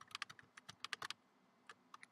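Computer keyboard arrow keys pressed in quick irregular bursts of clicks during a PyGame game, moving players on screen; close, fairly quiet keystrokes with short pauses between.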